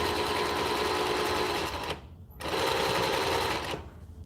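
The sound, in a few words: sewing machine stitching along a waistband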